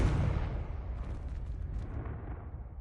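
A Confringo blasting spell from Hogwarts Legacy detonates with a loud, sustained rumbling blast that rolls on for several seconds with a crackling tail.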